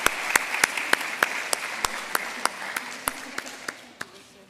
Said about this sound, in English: with an applause, we are now closing this session